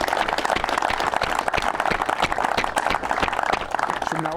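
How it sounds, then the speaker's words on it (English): Crowd applause at a pole fishing awards ceremony, with steady dense clapping from a sizeable audience that continues throughout at moderate loudness. "so a massive round of applause for Stephen"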